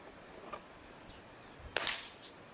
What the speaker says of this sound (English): And now the .177.